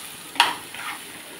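A tempering of spices hits hot oil in a pan for chana dal, giving a short sharp sizzle burst that fades into a soft, brief crackle with no talk.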